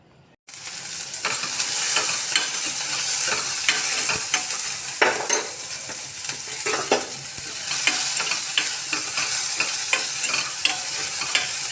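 Onions, green chillies and curry leaves frying in a pan after mustard seeds pop, a loud steady sizzle with frequent scraping stir strokes and crackles, close up and continuous.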